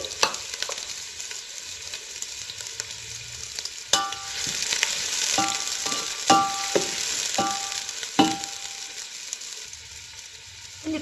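Onions frying in a pan for a Mangalorean country chicken gravy, a steady close sizzle broken by sharp scraping and stirring clatters throughout, with no talk.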